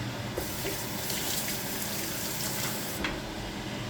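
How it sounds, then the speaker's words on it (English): Hands being rinsed under a running kitchen tap, a steady close splash and gush of water lasting the whole stretch, with no talking. "And I'm going to rinse my hands off."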